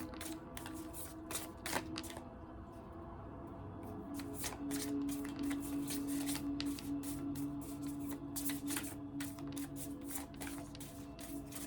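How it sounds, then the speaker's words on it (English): Tarot cards being shuffled by hand, a steady run of soft riffling and flicking snaps over about twelve seconds, quiet and close, with no talking. "Just shuffle, shuffle, shuffle, they say."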